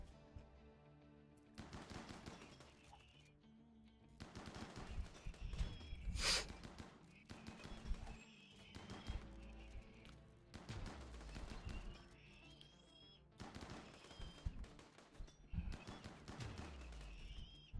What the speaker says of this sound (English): You did get shot by the chain shotgun.